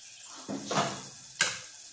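Spices such as turmeric, garam masala and roasted masala sautéing in hot oil for masoor dal amti, with a few short sizzling bursts and a stirring scrape, fairly faint and without talk.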